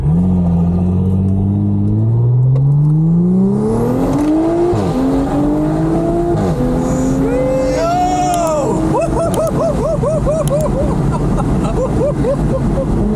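A tuned Audi engine revs hard, pitch climbing through repeated gear shifts into a high, crackling roar, loud and close, with people's voices faintly underneath.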